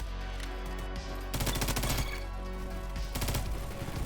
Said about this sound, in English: That's an M4 user. That's a shotgun.